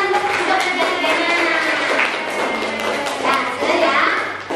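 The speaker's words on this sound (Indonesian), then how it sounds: "Ayo tepuk tangan untuk tiga-tiganya." Children in a classroom clap for three classmates, a brief burst of close, uneven hand claps and thumps mixed with young voices chattering.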